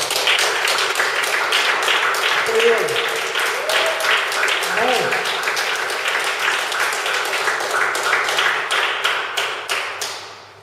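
Sustained audience applause fills the room with dense, steady clapping at a church gathering, holding at full strength before tapering slightly toward the end.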